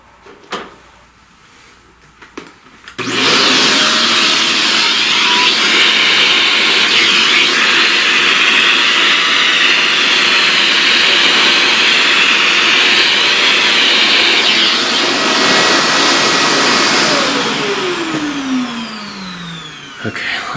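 A vacuum cleaner switches on abruptly and runs with a loud, steady roar for about fifteen seconds, its pitch shifting slightly as it moves, then winds down near the end after a few brief knocks at the start.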